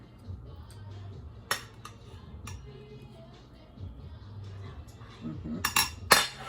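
Roasted sweet potato and cauliflower filling for chipotle veggie tacos gets scooped on with a utensil: soft scraping and a few sharp clinks against a dish, close up, with a quiet low hum in the room.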